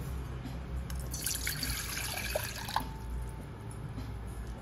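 Water streams into a metal pot for a couple of seconds, a bright splashing pour over steady low background hum, then it stops.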